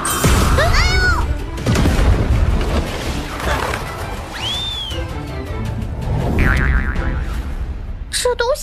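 Cartoon-style explosion in a kitchen while braised pork is being cooked: a chaotic run of comic sound effects, with springy boings, rising and falling whistles, crashing thuds and a clattering burst near the end, plus a voice briefly cutting in.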